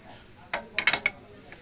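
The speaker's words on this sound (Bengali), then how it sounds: "নাট টাইট চলছে" Metallic ratcheting clicks from tightening nuts while fitting rings and a piston on a diesel engine, a short run of four or five sharp, close clicks in quick succession.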